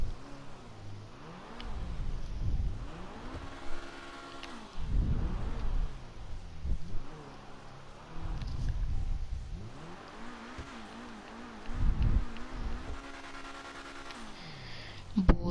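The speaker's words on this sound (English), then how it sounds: "let's just give it a little bit of a rev" Pegasi Reaper supercar engine in GTA Online, revved repeatedly in loud rising and falling bursts with harmonic whine, several surges over about fifteen seconds, close and without talk.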